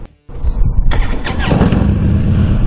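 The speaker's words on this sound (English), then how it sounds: "All right, going to fire it up for us real quick." A 2015 Harley-Davidson Ultra Classic motorcycle engine starts up after a brief pause, catching with a rough burst and settling into a loud, steady rumbling idle close by.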